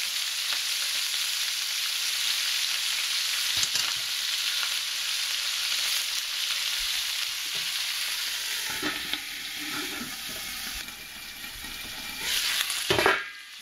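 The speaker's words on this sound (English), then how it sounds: "Our pan is hot, so I'm going to add my cabbage all at once." Cabbage for a Taiwanese cabbage-with-bacon dish hits a hot pan all at once, giving a loud, even, continuous sizzle close by that dips slightly near the end amid a couple of scraping stirs. No one speaks.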